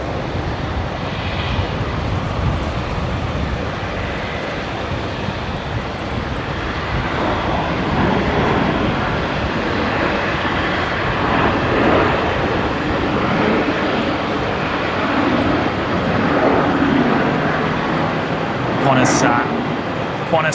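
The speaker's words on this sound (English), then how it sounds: "Qantas 534 there, just arrived from Sydney." A Qantas airliner arriving from Sydney at Brisbane Airport makes a steady, broad jet roar that holds for the whole stretch. Voices talk over the noise at times.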